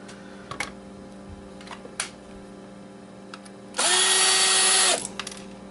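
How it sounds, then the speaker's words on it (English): A power drill whirs loudly in one steady burst of about a second while unscrewing screws from circuit boards, with a few faint clicks and handling knocks before it. "Let's unscrew these."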